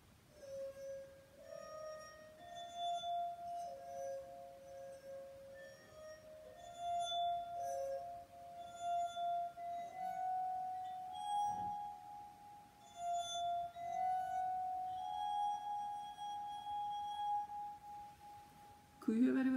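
Tuned drinking glasses ring out a slow melody, each clear, sustained note gliding into the next at moderate volume, with a brief louder clunk right at the end.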